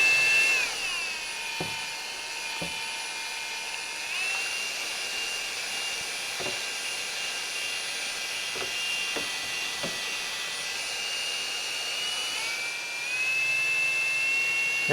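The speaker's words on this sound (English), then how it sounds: "you can kind of get the drill going faster, and see, it sets up a kind of a current of turbulence in the can." A power drill whirs steadily while stirring premixed paint in a can, a continuous high-pitched motor whine that speeds up near the end, with faint knocking against the can.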